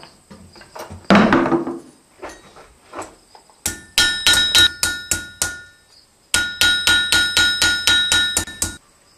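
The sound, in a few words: blacksmith hammering a copper rose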